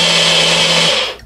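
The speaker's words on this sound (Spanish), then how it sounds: "Ahora a licuar." A kitchen blender whirs loudly and steadily, blending champurrado ingredients with leftover milk, a close high-pitched motor whine that holds for about a second and then cuts off.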